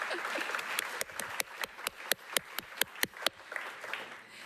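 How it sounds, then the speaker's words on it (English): A small audience at an awards ceremony for storefront design claps, starting as a light patter and settling into a run of distinct, close, evenly spaced claps before fading. "so let's clap now"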